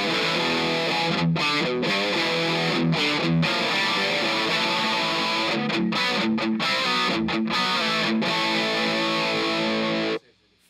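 An electric guitar played through Joyo analog chorus and distortion pedals rings out in loud, sustained distorted chords with brief gaps between strums, then cuts off abruptly near the end.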